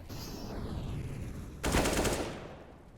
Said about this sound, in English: Lurking through is Kvem, and man, this guy has been on accuracy-wise. Another headshot